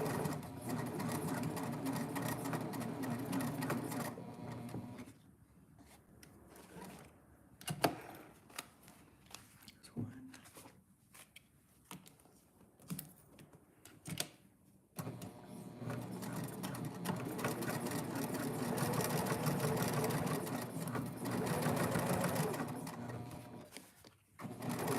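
A sewing machine stitches and backstitches a bag seam, with long, loud runs of rapid stitching at the start and end and a stretch of stop-and-go short bursts and clicks in between.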